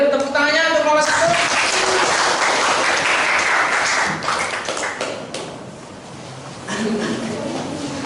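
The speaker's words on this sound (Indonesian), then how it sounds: "Boleh tepuk tangannya untuk kelompok 1." Classroom audience clapping for the first student group to present at a high school, a sustained burst of many hands that dips briefly before picking up again, with voices talking over it.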